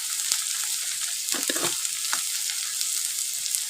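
Half a spoon of cumin seeds dropped into hot oil for a red lentil tarka crackles and sizzles close up, with a few sharp spits and pops over a continuous frying hiss.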